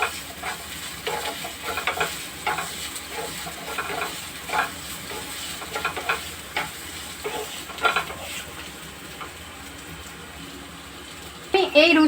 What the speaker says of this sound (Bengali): এইগুলো একসঙ্গে মিশিয়ে নিতে হবে।